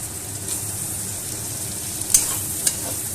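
Chopped tomatoes hit a pan of cooked-down spice masala, giving a steady low sizzle with a couple of sharp crackling pops near the end, no talking.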